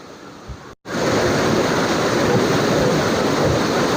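Close, loud roar of a waterfall, a thick steady wash of falling water that starts after a brief quiet moment and continues without talk.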